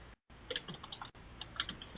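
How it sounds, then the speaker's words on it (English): Someone types steadily on a computer keyboard, close to the microphone, with quick irregular key clicks and a brief pause near the start. "Yeah, I can hear you typing."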